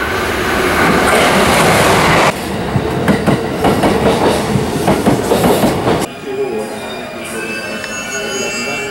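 An E353 series limited express Azusa passes Minami-Matsumoto station on the Shinonoi Line at high speed. A loud, close rushing roar carries rapid clickety-clack from the wheels, then cuts off abruptly to a quieter fading rumble.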